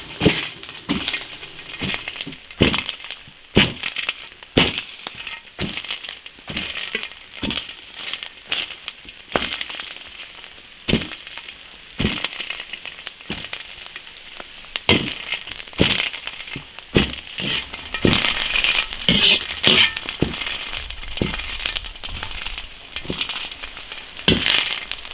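Dried chilies dry-stir-fried in a hot iron wok, a loud continuous sizzle broken by a rapid run of sharp scraping and clattering strokes from the spatula, steady and close throughout.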